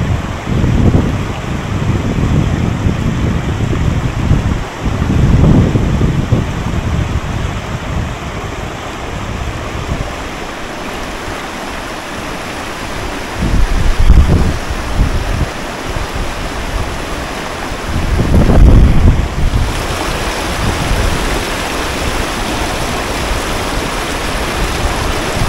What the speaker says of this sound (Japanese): 風があってちょっと厳しい状況になってきたか